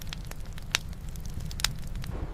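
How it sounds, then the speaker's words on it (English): Fish sizzling as it is laid on hot stones over an open fire: close crackling and frying hiss with sharp pops, two louder snaps standing out, no voices. "A sizzling sound echoed as the fish touched the hot stones."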